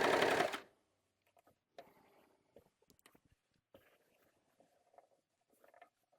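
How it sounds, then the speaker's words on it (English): A serger sewing machine stitches knit T-shirt fabric in short, quiet runs of rapid mechanical patter with brief pauses, close by, after a louder opening burst. "I mean, how much fun hasn't cloth sewing turned out to be when you have a serger?"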